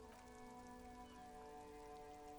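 Rain in the video game Disco Elysium, a soft, steady patter of falling rain held low and even throughout, with a faint tonal hum beneath it and no talk.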